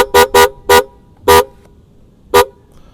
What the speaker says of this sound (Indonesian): Klakson kita menggunakan merek Helibars yang model bakpo seperti ini nyalanya ya.